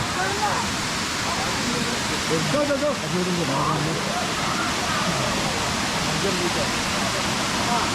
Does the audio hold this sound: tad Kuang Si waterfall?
yes